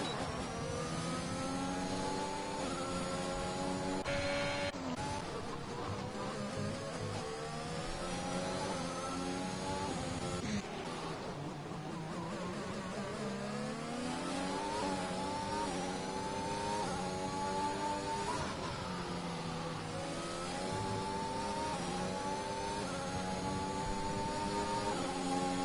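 Formula 1 race cars in a video game at the Canada round, engines screaming continuously as they rev up and down through gear changes, a loud close wail with rising and falling pitch sweeps.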